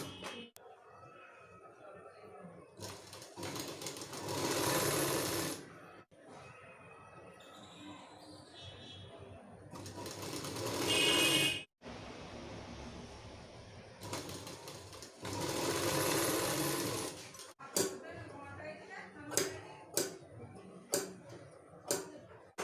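Sewing machine stitching a saree blouse, running in several long, steady whirring bursts with pauses between, then a few short sharp taps near the end; quiet room, no talk.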